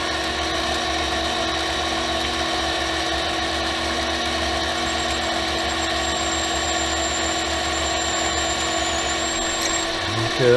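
Mini lathe drilling a 1/4 inch hole: a steady, continuous mechanical whir with whining tonal hum, running evenly close by throughout with no talking, ending with a small clunk.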